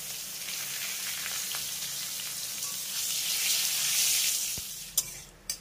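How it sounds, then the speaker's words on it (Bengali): Whole cumin seeds, a dried red chili and two bay leaves sizzle in hot oil for a thor ghonto recipe. The frying hiss is steady and close, swells slightly, and ends with two sharp clinks. "তারপরে এই একই তেলের ভিতরে দিয়ে দেবো 1/2 চা চামচ গোটা জিরে, একটি শুকনো লঙ্কা আর 2টো তেজপাতা।"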